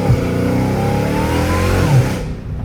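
Straight-piped Dodge Hellcat Redeye with its supercharger whine climbing over a loud, steady engine rev, the blown V8 droning close and continuous before cutting off sharply near the end.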